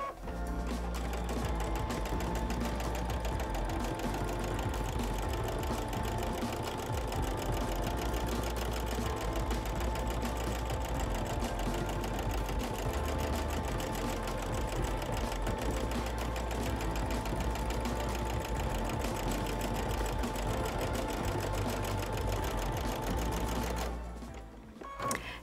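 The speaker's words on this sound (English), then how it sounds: "And I'm just going to show you how I will sew this heart." A sewing machine stitches an appliqué heart in a fast, steady mechanical rattle that runs nearly unbroken for the whole stretch before stopping abruptly at the end.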